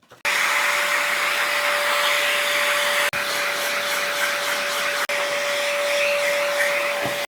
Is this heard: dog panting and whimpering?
no